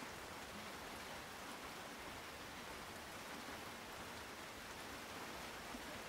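Steady rain falls in a cold, wet outdoor setting, a dense even hiss of drops hitting surfaces that holds constant throughout with no voices.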